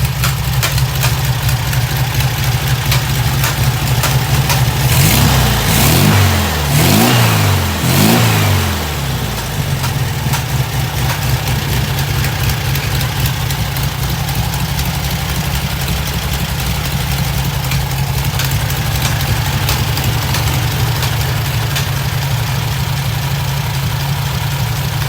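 A 1972 VW Super Beetle with its 1600 engine idles steadily and loud up close, a brief throttle blip swelling the air-cooled rumble early on before it settles back into an even, lowered idle.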